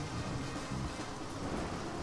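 Heavy rain in the Deadly Premonition video game, a dense, steady roar of broadband noise with a low rumble, unbroken and loud for the whole moment.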